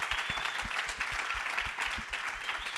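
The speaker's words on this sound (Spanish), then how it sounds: "Un aplauso para Stanis." A festival industry audience applauds at Sitges, a soft, fairly distant patter of clapping with a few sharper claps up front, steady throughout.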